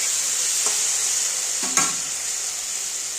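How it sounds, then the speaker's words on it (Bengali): Vegetables, potato and eggplant, being stir-fried in a pan with a steady sizzle and a couple of scraping stirs, close and alone without talk. "এবারে ভালো করে কষিয়ে নেব"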